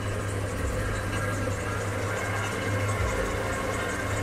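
A home-built turbocharged Chevy 250 inline-six hums steadily at cruising speed on the road, a continuous loud drone with low rumble and road noise filling the cabin, with no voices.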